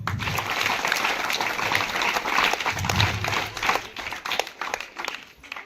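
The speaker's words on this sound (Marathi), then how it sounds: "ह्या 4 माझ्या मैत्रिणींसाठी खूप मोठ्यानं टाळ्या वाजवा." An audience at a school gathering of students and parents claps loudly, a dense continuous burst of many hands that holds steady before thinning out toward the end.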